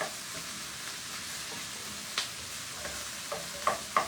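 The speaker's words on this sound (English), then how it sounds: "once we get this sauteed a little bit, you're going to push this to the back where it will continue to cook." Shrimp lo mein ingredients sautéing in a hot pan in a New York kitchen, a steady low sizzle with occasional soft scrapes and clinks of a utensil stirring, close and moderately quiet with no talk.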